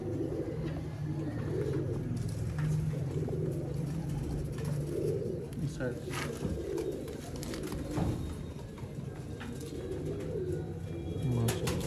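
Sialkoti pigeons coo softly over a continuous low hum of a coop, with repeated throaty calls throughout and faint scattered clicks and movement nearby.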